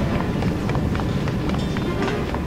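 A character's footsteps land on a metal floor in Final Fantasy XIV as a quick, even run of clanking steps over a steady low rumble of game ambience.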